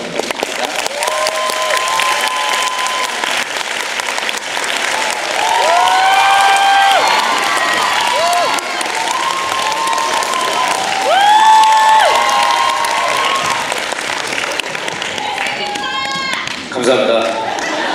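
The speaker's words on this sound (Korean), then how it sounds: "큰 박수로 환영 부탁드립니다." Applause and cheering from a film festival audience welcoming a director, an actor and a producer onto the stage for a post-screening talk, sustained and loud throughout, with shouts and whistles rising above the clapping.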